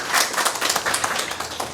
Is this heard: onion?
no